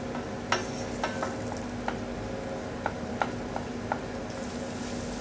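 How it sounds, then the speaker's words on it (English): A whisk or spoon works through a cooked roux to keep it smooth, giving a soft, continuous scraping with a run of light, irregular ticks and taps against the pan, close and fairly quiet, with no voices. "Stirring continuously to prevent lumps."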